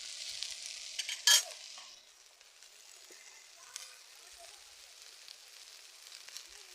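Fried okra and prawns hiss softly in a pan over frying potatoes, a faint steady sizzle broken early by one sharp clatter of utensil against pan.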